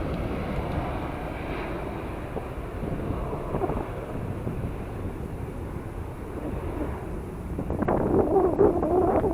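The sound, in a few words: airplane takeoff roll at Southampton airport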